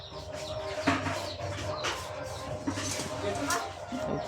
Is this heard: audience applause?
no